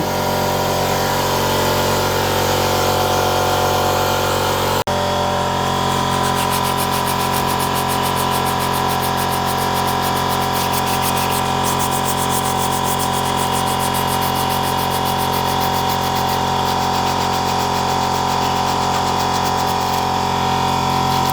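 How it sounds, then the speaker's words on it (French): An air compressor runs in a truck repair garage, a loud steady mechanical drone with a rapid pulsing chatter that shifts in tone after a few seconds, continuous throughout with no talk. "Tu aimes le bruit du compresseur?"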